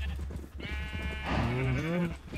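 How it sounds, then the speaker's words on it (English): Sheep bleating in the video game Minecraft, a couple of wavering bleats heard close over a low background hum. "Come here, sheep. I need your wool."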